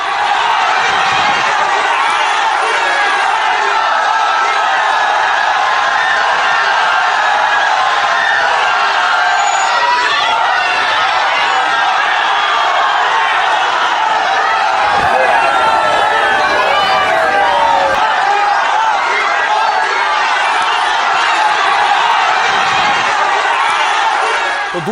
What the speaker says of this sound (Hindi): प्रधानमंत्री को देखने के लिए हजारों की भीड़ थी सड़कों पर।